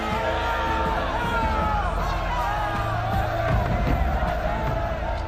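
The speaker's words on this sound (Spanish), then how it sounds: "Pero entre los aplausos también había gritos de protesta" A large crowd roars, whoops and yells in protest mixed with applause, a dense continuous din throughout.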